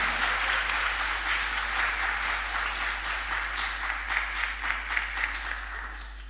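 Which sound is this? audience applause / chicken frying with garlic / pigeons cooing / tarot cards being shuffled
audience applause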